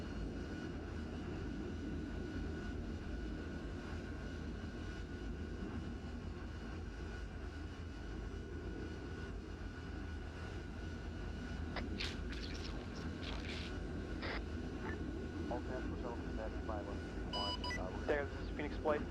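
Steady heavy rotor-engine drone of a CH-47 Chinook helicopter in the ArmA 3 military game, holding constant throughout with radio chatter and brief beeps laid over it toward the end.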